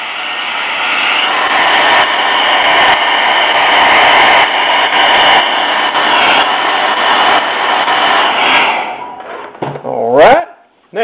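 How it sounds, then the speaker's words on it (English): A hair dryer blows steadily for about nine seconds, a loud close whirring roar drying paint on a carved golf ball, then it cuts off and a brief squeaky rubbing sound follows. "I'm going to take my hair dryer."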